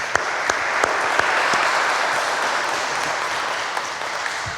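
A crowd at a Veterans Day ceremony applauds steadily and loudly, with dense, even clapping throughout and a few sharper individual claps standing out.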